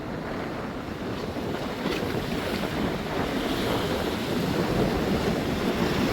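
Storm-driven sea waves surge against a bridge in Jaffna while strong wind roars across the microphone, a dense and continuous wash of noise that swells slightly louder toward the end, with no one speaking.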